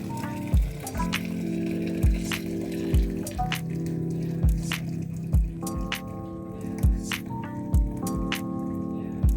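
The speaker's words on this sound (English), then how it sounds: "let's filter the banga here. From here, we take it to the pot." Banga palm fruit extract is filtered for soup, making repeated wet squishing and squeezing sounds with drips of liquid, close and rhythmic, roughly every second, over a steady low background hum.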